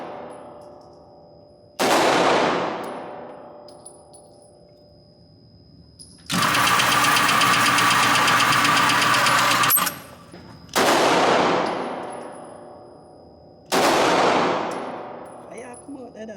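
A handgun is fired outdoors, four sharp, loud shots ringing out at irregular intervals, each followed by a long echoing decay, with one extended burst of harsh mechanical noise between them.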